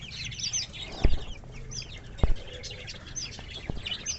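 Frizzle bantam chickens clucking and chirping nearby, soft scattered calls throughout with a few sharper louder knocks or clucks punctuating the background, no talking.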